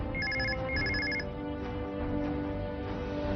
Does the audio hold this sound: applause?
no